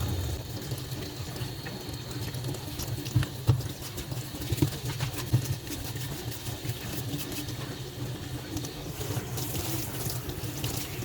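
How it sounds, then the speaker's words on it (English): Tap water runs steadily over the removable brew unit of a De'Longhi Magnifica S coffee machine while it is rinsed, with a constant splashing rush and a few louder sloshes partway through. "Then rinse it with water."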